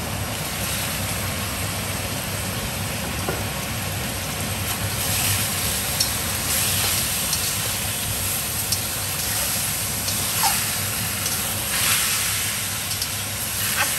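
Butter chicken sautéing uncovered in a pan, giving a steady, close hiss of sizzling that runs evenly throughout with no voices.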